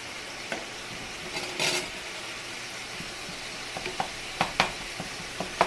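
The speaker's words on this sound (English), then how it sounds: "Once you get it chopped, then you start stirring it around" Chopped meat seasoned with a Hatch Valley Greens blend, stirred around in a hot pan for enchiladas: a steady sizzle of frying with repeated scrapes and clacks of the utensil against the pan, close and fairly quiet.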